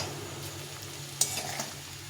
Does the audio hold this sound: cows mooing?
no